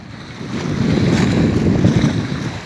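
Roaring North Sea waves and gusting wind buffet the microphone, a loud, continuous low rumble with surf washing in.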